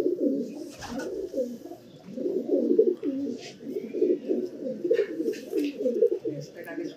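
A racing pigeon at a loft coos close and continuously in repeated low, throaty rolling phrases, with little pause between calls and faint background noise.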